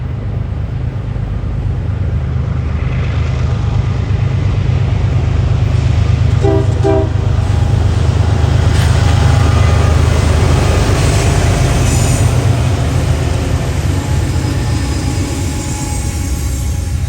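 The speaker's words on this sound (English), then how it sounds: "This is New Jersey-bound intermodal number" A New Jersey-bound intermodal freight train rolls past near Greenville, South Carolina, giving a loud, continuous low rumble of wheels and cars throughout, with a brief horn sounding partway through.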